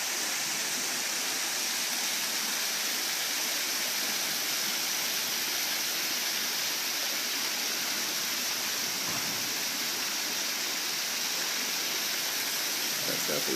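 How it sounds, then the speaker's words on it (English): Rock waterfall spilling into a swimming pool with dark tile and slate-coloured plaster finish, a steady broadband wash of falling water that holds level and continuous from start to finish, fairly close, with no talk over it. "Again, this pretty waterfall here."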